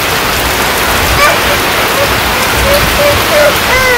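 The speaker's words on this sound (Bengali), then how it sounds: "হঠাৎ করে আর কি বৃষ্টি শুরু হয়ে গেছে" Steady, loud sudden rain pours down in a Bangladeshi village in a dense hiss, with a few faint chirps or squeaks rising briefly above the downpour.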